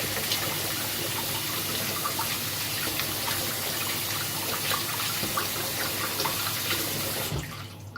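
A shaving brush is rinsed under a running tap, a steady close gush of water splashing into a basin that holds evenly for several seconds and then cuts off near the end.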